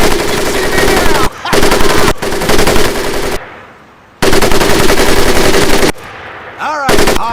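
Bursts of machine-gun fire in the Medal of Honor Pacific Assault video game, loud and close, several long sustained volleys separated by short pauses, with a brief quieter gap in the middle.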